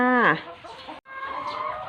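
Chickens in a chicken house cluck and call close by, one loud rising squawk at the start followed by a brief break and more clucking calls.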